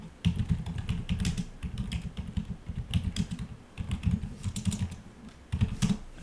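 Rapid keystrokes on a computer keyboard come in uneven bursts with brief pauses, close and fairly quiet, while someone searches for stock analyst opinions.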